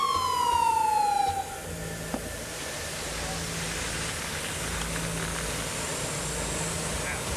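An EMS emergency vehicle arrives at a mock power line strike drill in North Carolina, its siren wailing down in pitch over the first second and a half before giving way to a steady broadband rumble of idling vehicles.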